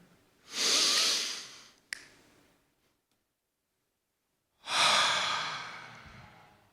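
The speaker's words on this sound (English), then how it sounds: "We're gonna breathe in again, and we're gonna hold for 3 counts, then we're gonna breathe out." A group breathes deeply during a guided breathing exercise: one long inhale, a brief pause, then silence while holding, followed by another long breath, all soft and close.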